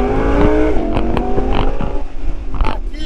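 Audi R8 V10 with a dual-clutch gearbox in its most aggressive drive mode, engine note rising steadily and stepping through quick gear changes, loud and close with no talking over it.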